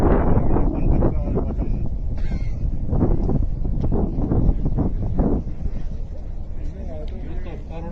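Strong wind gusts across open ground in Mustang, Nepal, blowing dust in a steady, close, rumbling roar that buffets the microphone throughout while people talk over it.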